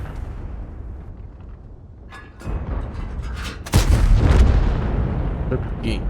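A tank cannon fires in a tank battle video game as a sudden heavy boom that rolls into a loud, sustained rumble, following quieter engine and battlefield noise.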